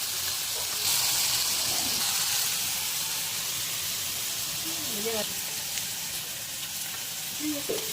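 Food fries in a pan with spices such as dried chilli, cumin and coriander powder, giving a steady loud sizzle and hiss throughout, with brief stirring scrapes and a voice talking over it.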